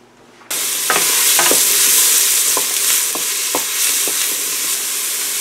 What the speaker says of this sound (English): I'm going to put a little bit of fat to fry the onions first